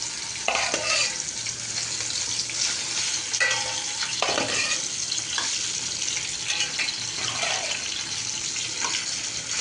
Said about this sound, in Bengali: তো ফ্রাই প্যানে তেল দিয়ে এখন একটু মাছটাও দিয়ে দিচ্ছি